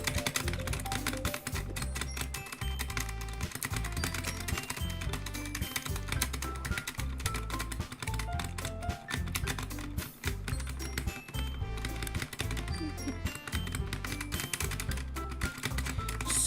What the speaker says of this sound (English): Spacebar clicking simulator.